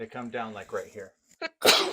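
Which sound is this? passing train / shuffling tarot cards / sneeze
sneeze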